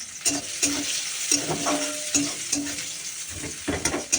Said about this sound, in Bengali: পেঁয়াজটা ভেজে তারপর আলুটা ভাজবো পেঁয়াজটা ভেজে নি